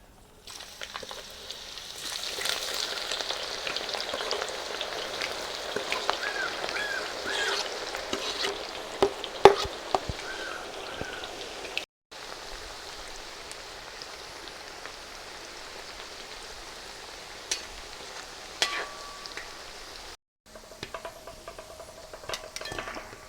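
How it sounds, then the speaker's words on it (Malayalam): Sliced onions frying in oil for a Kashmiri chicken biryani, a soft, steady sizzle with faint crackles and a few stirring clinks, broken by two brief silent gaps. "അപ്പോൾ ഇതൊന്ന് ഫ്രൈ ചെയ്തെടുക്കുക."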